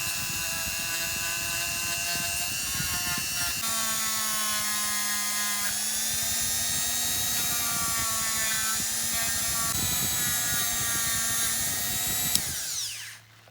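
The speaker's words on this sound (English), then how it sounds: "just got a little polishing wheel on this now" A small rotary polishing wheel buffing a Matchbox diecast VW Beetle, a continuous high motor whine with shifting pitch as pressure changes, steady and close for about twelve seconds before winding down.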